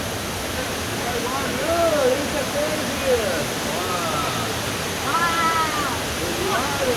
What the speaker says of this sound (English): Inside a waterfall?